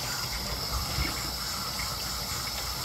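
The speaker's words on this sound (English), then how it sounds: "So we're gonna give her a quick rinse." Lukewarm water gushes steadily over a dirty, freshly dug glass bottle as it is rinsed, a close continuous splashing rush.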